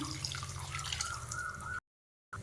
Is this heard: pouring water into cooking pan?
yes